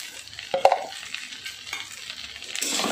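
Spice paste with turmeric, salt and chilli powder is stirred in a frying pan for a chenga fish curry, giving soft scraping stirs and a couple of sharp spoon clinks over a faint sizzle, with no talking.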